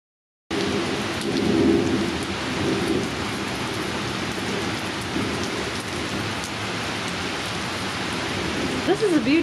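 Heavy rain pours down steadily during a major thunderstorm caught while bike camping near Blue Mound, a dense, continuous hiss with low rumbling underneath and a few brief sharper sounds near the end.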